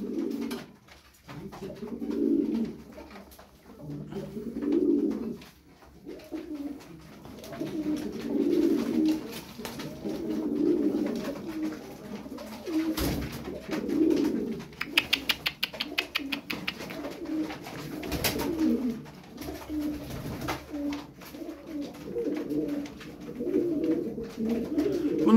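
Tumbler pigeons coo repeatedly in soft, rolling phrases, close by and overlapping, with occasional wing flutters and light rustling in the background.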